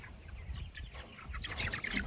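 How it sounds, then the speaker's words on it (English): Baby chickens cluck softly close by, a few short, chirpy calls overlapping in a quiet coop. "Come on, baby chickens."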